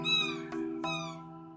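A kitten found by a roadside meowing for its mother, one clear high cry followed by two shorter mews, close and fairly soft.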